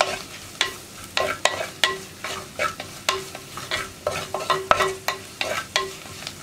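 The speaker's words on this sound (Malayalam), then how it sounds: "1 മിനിറ്റ് ഒന്ന് ഇളക്കി കൊടുക്കുക, ഈ മുളക് പൊടിയും മഞ്ഞൾപ്പൊടിയും കുക്കായി വരാനായിട്ട്." Kashmiri chilli powder and turmeric powder frying in a pan while a spoon stirs them, giving a steady run of sharp scraping strokes over a soft sizzle, close and clear, with no talking.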